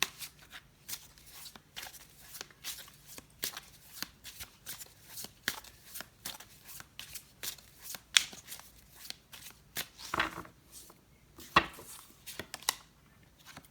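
Tarot cards are shuffled by hand up close, giving a series of crisp riffling and tapping bursts in an uneven rhythm, fairly quiet, with no talking over them.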